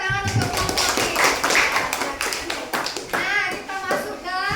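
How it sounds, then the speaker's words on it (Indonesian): Applause from a classroom of students for a presenting group, mixed with scattered taps and children's voices chattering throughout, steady and fairly close. "tepuk tangan untuk kelompok Pins"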